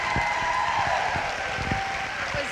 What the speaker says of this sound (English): Let's give a warm round of applause for fellow co-founder of Team Rockstar Fit,